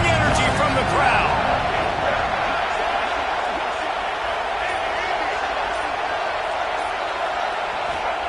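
A steady, loud roar from a stadium crowd during a 3rd-and-goal play in the video game College Football 26, a continuous wash of noise under commentary.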